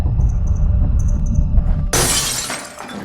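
In the video game Little Hope, a window glass shatters when a thrown rock hits it: a sudden loud crash of breaking glass near the end, after a low rumbling ambience with electronic tones, then trailing tinkles as the shards settle.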